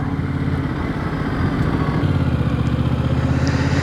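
A Yamaha Tracer 9 GT motorcycle engine runs nearby with a steady, throbbing mechanical drone. The pulse grows slightly louder and more insistent partway through, and no voices can be heard.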